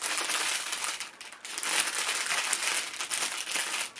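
Plastic packaging around bags of fibre, including merino, crinkles and crackles continuously up close as it is handled, loud and busy throughout with no speech.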